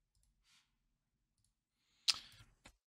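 A computer mouse clicks during a software platform demo, a single crisp click followed by a fainter second one, close and isolated against near silence.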